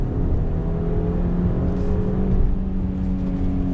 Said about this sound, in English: You do have that typical 4-cylinder turbocharged sound.